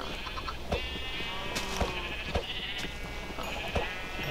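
Sheep bleating in Minecraft, with several short, clear bleats at irregular intervals over a steady background and no talking.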